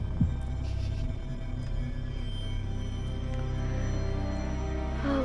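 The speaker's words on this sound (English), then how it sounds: "Heartbeat." A low, throbbing heartbeat sound effect in the horror game Ib, steady and muffled beneath a humming drone, continuing alone without talk.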